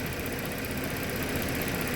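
A Ford car engine idles at steady revs with a fault that makes it run rich, a dense continuous hum and whir holding level throughout, close by and with no talk over it.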